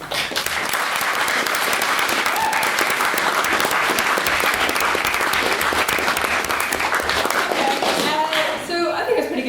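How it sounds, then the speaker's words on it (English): A lecture-hall audience gives sustained applause for the main speaker and guest at a debate on cancer treatment funding, dense clapping filling the whole stretch, with a few voices underneath near the end. "Can we get another round of applause just for our main speaker again, Professor Mark Lawler, and for our guest"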